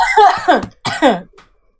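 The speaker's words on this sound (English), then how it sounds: "The vape turned into a cough." A single harsh cough bursts out while vape smoke is being exhaled, then a second rougher cough follows, close and loud, fading into quiet breath.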